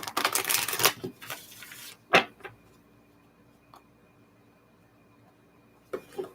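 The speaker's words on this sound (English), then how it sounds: "I'm going to shuffle these cards a little bit more." Tarot cards riffle and slap together in a quick burst, followed by a few sharp taps and quiet shuffling, then one more brief riffle.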